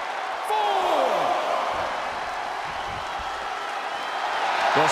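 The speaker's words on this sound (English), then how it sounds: "The sound of this crowd is deafening, and he's asking for more." A loud, dense crowd roars continuously, with whoops and cheers rising and swelling toward the end.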